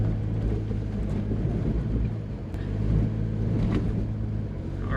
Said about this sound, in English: all 4 wheels are spinning at the moment